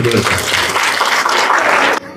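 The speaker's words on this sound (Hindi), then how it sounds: "एक बार एकता के लिए जोरदार ताली।" Loud, dense applause from an audience at a spiritual talk, sustained for about two seconds before cutting off abruptly.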